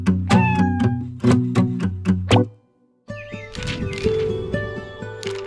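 A cartoon cat in a Genshin Impact animation meows in a few short, bright calls over a playful musical backing, followed by a busier stretch of music and effects.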